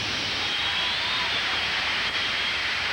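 Jet car engine roaring at a 1990 USHRA mud and monster truck racing show in the New Orleans Superdome, a steady, loud, broadband roar with hiss, sustained throughout without a break.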